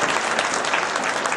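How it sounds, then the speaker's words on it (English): A conference audience applauds at an opening session, dense continuous clapping filling the room, loud and close, with no voices over it. "So could we have a round of applause for all those people that worked so hard?"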